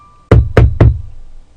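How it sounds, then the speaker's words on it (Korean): Three firm knocks on a front door, evenly spaced and close, sounding out sharply in an otherwise quiet room as a horror story effect. "누가 현관문을 치는 소리가 나는 것이었습니다."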